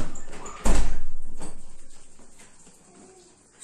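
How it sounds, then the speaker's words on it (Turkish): A door in a home kitchen is pushed shut with a single sharp thud near the start, followed by a fading rattle and a faint knock at the end. "Kapıyı kapat."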